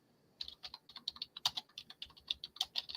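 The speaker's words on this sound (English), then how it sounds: "How's my keyboard sound? I don't want to be typing." Quick, uneven clicks from a computer keyboard being typed on at a desk, with keys tapping close and fairly soft, and no talking over them.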